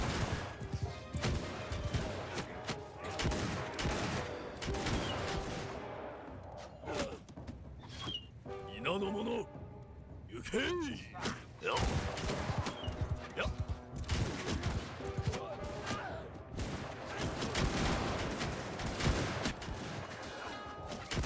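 Gunner volleys crackle across a samurai-era battlefield in the strategy game Shokuho: repeated dense bursts of musket fire with crashes and clatter, loud and sustained, easing briefly midway before resuming, with a voice talking over parts of it.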